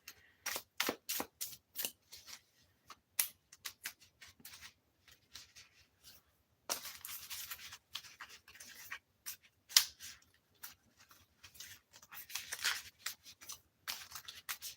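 Quiet riffling and soft flicking of playing cards in repeated short bursts, as a deck is shuffled several times up close.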